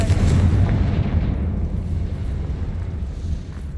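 A Confringo fire spell blast in the video game Hogwarts Legacy: a loud, deep, rumbling boom that rolls out heavily at once and slowly fades over a few seconds.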